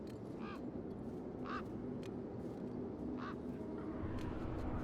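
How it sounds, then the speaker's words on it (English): Birds in the video game Beyond a Steel Sky give a few short, honking quacks at intervals over a steady ambient hum, moderately close and without talk. "You see all these birds all over the place?"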